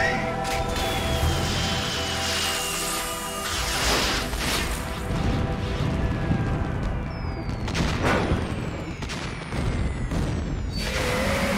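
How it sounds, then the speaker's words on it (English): Explosions in the stealth video game Metal Gear Solid 2: Sons of Liberty, a dense, continuous barrage of booms, crashes and gunfire-like blasts layered over a sustained rumble, loud throughout. "Those explosions looked a little lackluster."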